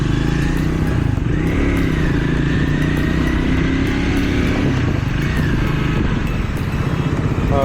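A freshly washed Scrambler motorcycle idles loudly and close by, its engine running in an even, throbbing rumble with slight shifts in pitch throughout, and no talk over it.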